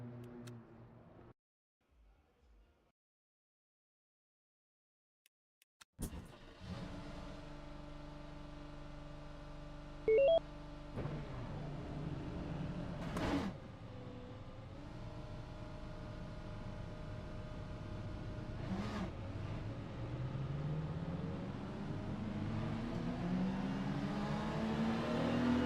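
An LMGT3 race car in the Le Mans Ultimate racing game: a few seconds of near silence, then a loud, steady engine drone with harmonic tones rising and dipping as the car accelerates and shifts.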